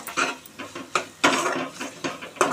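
Bottle gourd masala curry with coconut stirred in a pot, a spoon scraping and knocking against the metal in quick uneven strokes, close and fairly loud with no talking.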